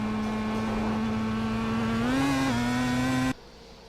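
Pro Mazda race car in iRacing at the Nurburgring, engine droning steadily at high revs, rising briefly as the throttle opens, then cutting off abruptly near the end.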